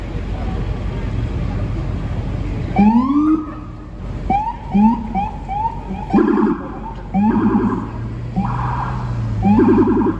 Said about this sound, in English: We gotta get out of the way. An ambulance is coming by.